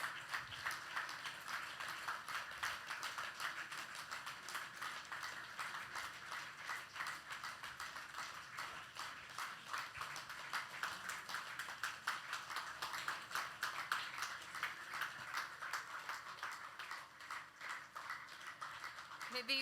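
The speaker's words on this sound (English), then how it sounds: "Please clap your hands." Audience at a G20 Interfaith Forum in Pune, India, clapping hands continuously for about twenty seconds, a dense, quiet, fast patter of many individual claps heard from a distance.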